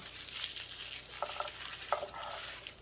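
Garlic being stirred and broken up in a pot for homemade bone broth, a steady close scraping and soft sizzling texture with a few brief clinks, no talking.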